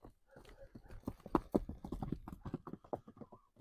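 A horse bred for ulak in a village in Nookat walks nearby, its hooves giving a quiet, fairly regular clip-clop of many short knocks.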